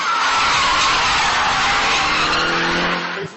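A customized drift car skids hard with tires squealing continuously and loudly, a broad sustained screech over engine drone at close range, fading slightly at the very end.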